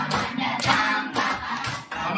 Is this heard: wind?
no